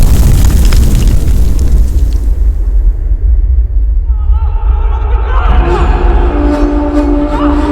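A bomb explosion in a Telugu movie scene, heard as a loud, sustained rumbling boom with a fiery roar that fills the soundtrack, fading into a lingering noisy tail with some higher ringing debris sounds.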